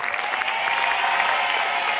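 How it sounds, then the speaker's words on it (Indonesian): Audience applause at an Indonesian family game show, a steady wash of clapping hands that fills the whole moment evenly, loud and close with no talk over it. "Yuk tepuk tangan untuk semuanya dulu."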